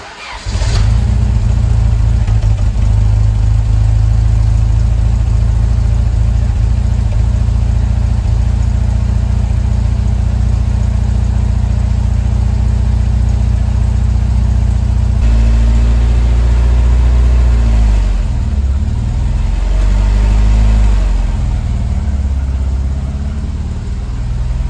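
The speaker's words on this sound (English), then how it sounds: "So this is the little 4-cylinder engine that came in the GTV" A classic Alfa Romeo GTV's small 4-cylinder engine cranks and fires right at the start, then settles into a loud, close idle. The pitch shifts partway through as the revs change.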